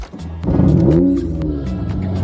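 A Honda Accord Euro R, its drivetrain freshly rebuilt, pulls away with a rising engine note that climbs through the revs and then settles into a steady, close drone.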